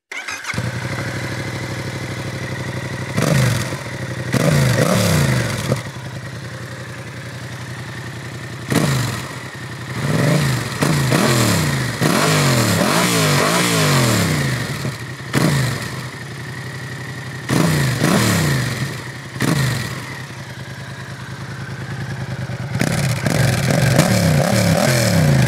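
A Yamaha MT-07 motorcycle with an Akrapovic exhaust revs repeatedly in loud bursts, climbing through gears with a deep, throaty exhaust note between steady idling stretches.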